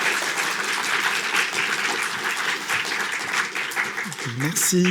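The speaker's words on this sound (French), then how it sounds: "Vous pouvez l'applaudir déjà, ça va un peu l'encourager." An audience at a cinema and video game screening event applauds steadily, a dense wash of clapping that runs throughout, with a voice starting to speak near the end.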